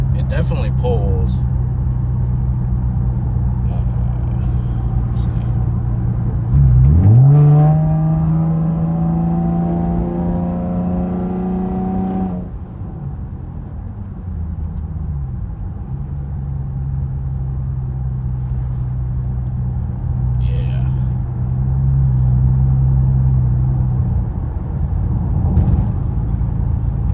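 A 2011 fifth-generation Camaro with the 3.6L V6, fitted with a Trifecta tune and ghost cam and running on a bent wheel, revs up hard in a rising engine sweep that holds for several seconds before easing back to a steady idle hum under talk.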